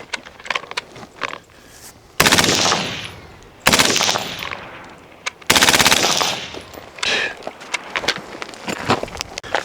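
FightLight MCR civilian-legal belt-fed rifle fired in forced-reset-trigger (FRT) mode: three loud, sustained rapid-fire bursts with sharp single shots scattered between them.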